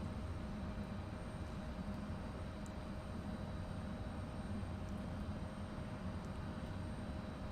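Steady engine drone of an airliner taxiing to a runway in a flight simulator game, a continuous broadband rumble at constant level throughout with no talking.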